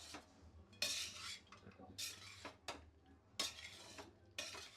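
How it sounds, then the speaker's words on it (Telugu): Metal spoon stirring and scraping pulihora (tamarind rice) in a pan on low flame, in repeated bursts of clattering strokes with a faint sizzle underneath, no voices. "సిమ్లో పెట్టి అట్లానే మనం కలుపుకుంటూ ఉండాలండి."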